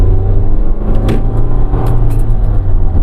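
A facelifted automatic Fiat Doblo accelerates on a winding mountain road, its engine a loud, steady droning rumble heard from inside the cabin throughout, with faint clicks over the top.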